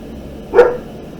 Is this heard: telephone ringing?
no